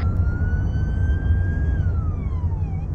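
Police car siren in the video game Arma 3, a steady wailing tone that holds then sweeps downward, loud and continuous over heavy low engine rumble, with no voices.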